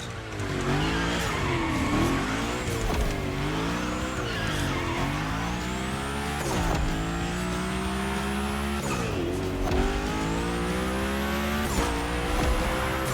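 A car slides through a gymkhana course in The Crew Motorfest, its loud engine droning and rising in repeated revs while tires squeal through successive drifts, with no pauses across the run.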